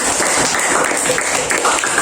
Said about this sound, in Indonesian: Kita beri tepuk tangan kelompok 4